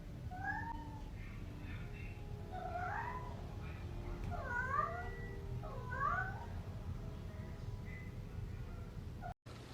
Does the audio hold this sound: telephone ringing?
no